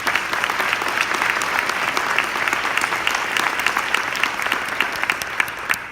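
Audience at a Girl Scouts of Southwest Texas luncheon applauding steadily, a dense wash of many hands clapping close and loud throughout with no break.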